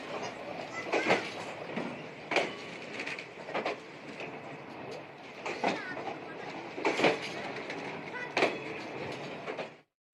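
A special freight train rolls past on the rails with a steady rumble, and rhythmic wheel clatter recurs at regular intervals, fairly close and continuous.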